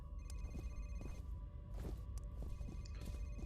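A faint office telephone rings somewhere out of sight in the F.E.A.R. video game, a thin repeating tone over low, muffled background rumble and scattered soft thumps.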